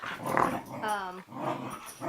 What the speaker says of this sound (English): Sorry, my dogs are, okay, they're playing, you can tell.